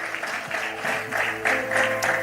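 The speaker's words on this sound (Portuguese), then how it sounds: "Os que podem, tomem seu assento, aplaudindo a Jesus, porque Ele é bom" Church congregation applauding during a worship service, a steady wash of clapping from many hands that swells in bursts, heard close and fairly loud without speech over it.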